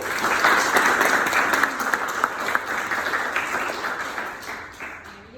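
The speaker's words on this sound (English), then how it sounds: "applause, please" An audience bursts into loud, dense applause that stays strong, then slowly thins and fades toward the end.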